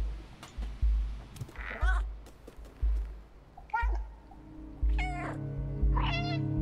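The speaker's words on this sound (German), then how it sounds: "Wir singen unser Katzenlied" A cat meows repeatedly in the video game Stray, several close, clear mews and calls spaced every second or so over soft game sounds and footfall thumps, with no talk.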